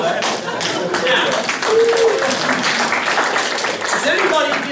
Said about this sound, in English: Let's get the blues round of applause.